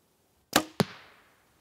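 A single sharp snap of a Mathews V3 compound bow releasing, followed a moment later by a solid thwack of the arrow striking, then quiet.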